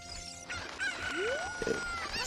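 Chickens cluck and crow in the Zelda: Ocarina of Time randomizer game, a short burst of game-sound fowl calls with a rising whistle-like tone, steady and moderately loud with no talk.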